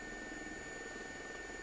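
A helicopter lands on the grass of a castle quadrangle at Windsor Castle, its rotor and engine giving a continuous loud whir and drone with a steady high whine, heard alone.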